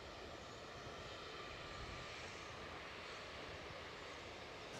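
A Ryanair airliner on final approach into Aberdeen airport gives a steady, broad engine roar that holds evenly throughout at a moderate distance, with no voices over it.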